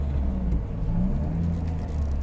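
A car lurching through deep potholes on a service road near C5 in Taguig, heard from inside as a steady loud low rumble and whir of the engine and tyres, with no talk.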